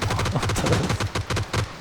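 Rapid bursts of gunfire crack and boom in quick succession, loud and dense, including an AWM sniper rifle shot in a PUBG firefight.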